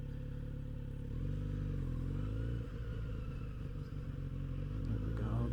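Kawasaki Z900 RS motorcycle engine during a ride: a steady, deep exhaust rumble with rising and falling revs and wind rush throughout, no talking.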